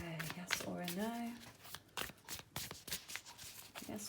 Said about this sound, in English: I'm just going to try and shuffle in front for you